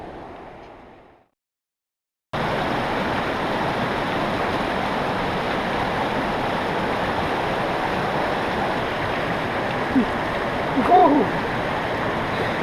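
Shallow creek water rushes in a steady, close broadband wash after a short near-silent gap, with only a couple of small splashy accents late on; no clear plunge of a body into the water stands out.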